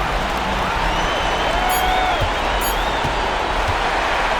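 Dense, steady roar of a home arena crowd in an NBA 2K26 Euroleague basketball game between Crvena Zvezda and Monaco, sustained cheering with a faint whistle-like tone running through it and no clear talk.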